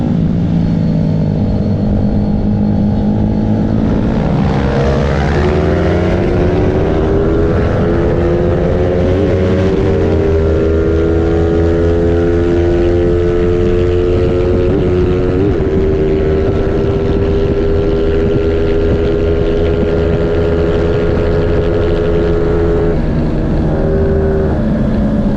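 Racing motorcycle engines rev and drone loudly and continuously for the whole stretch, pitch rising and falling as they accelerate down a straight, close to the listener with no talking.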